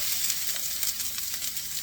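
Onion sizzles and crackles in shimmering oil in a pan, a steady close hiss with small pops and spits throughout and no voice over it.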